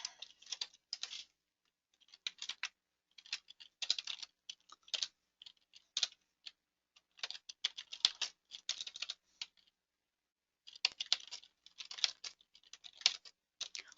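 Fingers type on a computer keyboard, close and quiet, with quick clusters of key clicks broken by short pauses.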